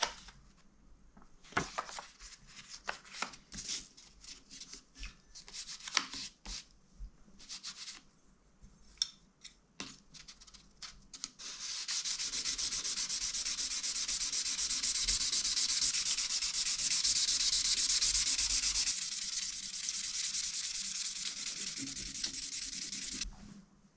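A mountain bike part is hand-sanded with 1500 grit sandpaper, first in short scattered rubbing strokes, then in a long continuous hiss of steady scrubbing, close and fairly quiet.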